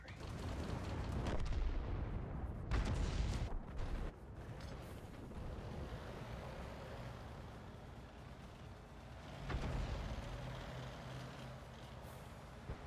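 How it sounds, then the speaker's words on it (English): Artillery fire in World of Tanks: a dense, low rumbling barrage of heavy booms and blasts with a deep continuous roar, a stronger burst near the start and another later, fairly faint overall and with no voices. "Killed by artillery."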